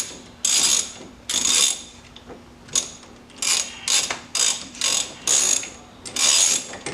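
A ratchet wrench clicks a steering wheel nut loose on a Mazda Miata, coming in repeated bursts of rapid metallic ratcheting with short pauses between strokes, close and clear.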